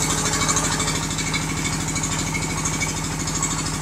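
Hanjin D&B 4000 Korean-made drilling rig engine running at a job site: a loud steady rhythmic diesel chug with dense mechanical rattle, continuous throughout.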